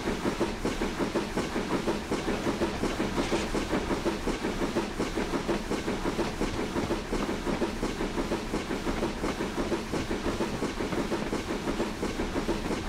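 A BR Black 5 steam locomotive on the West Highland Line South in Train Simulator runs steadily with a rapid rhythmic chuff and rail clatter over a constant hiss, loud and even throughout, with no talk.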